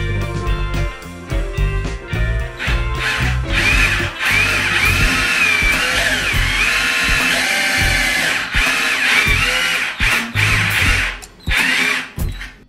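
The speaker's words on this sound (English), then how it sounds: "with a small rechargeable portable drill, you can make the holes easily and precisely" A small cordless drill whirs in bursts, revving and biting into a ceiling nearby, with short pauses between runs; no voices.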